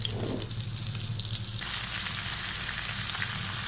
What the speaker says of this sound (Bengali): এখন চিকেনটাকে আমি ভালোভাবে ভেজে নেব।